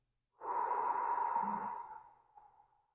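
A single long, soft exhale through the mouth during Sheetali cooling-breath pranayama, a close breathy whoosh lasting about two seconds before tapering off in quiet.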